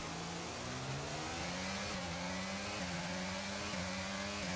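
A Formula 1 car engine races at Monza in the game F1 22, a loud continuous high-pitched whine that rises and shifts through gear changes with a steady buzzing drone.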